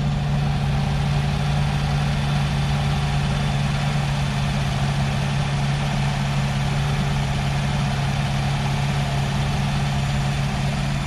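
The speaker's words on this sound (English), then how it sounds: "Take a listen to this engine." Engine of a 2013 Nissan Altima SV idling after a jump start, a steady close low hum with a constant drone throughout and no talk.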